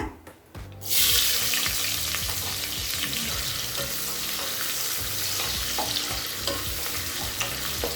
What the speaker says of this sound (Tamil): நீளமாக நறுக்குன ஒரு வெங்காயத்தை சேர்த்துக்கலாங்க.